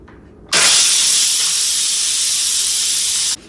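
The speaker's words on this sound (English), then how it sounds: "So we're going to release the steam now. Let the steam release completely before you do anything else." Steam vents from an Instant Pot pressure cooker during release, a loud continuous hiss that bursts on abruptly after a quiet moment, holds steady for about three seconds, then cuts off.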